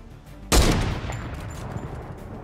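A single loud gunshot or burst from a Fortnite match hits sharply at about half a second, then decays into a lingering rumble and game ambience.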